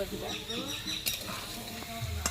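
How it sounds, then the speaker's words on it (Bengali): Potatoes frying in oil in a pan for a jackfruit and prawn dish, with a soft steady sizzle, scattered stirring clinks and scrapes, and a sharp utensil tap near the middle. "আলুটা আগে দিচ্ছি এটা একটু হয়ে গেলে লাল লাল মতো"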